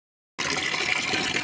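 Water runs steadily from a tap during washing, starting abruptly and continuing as a close, even splashing rush.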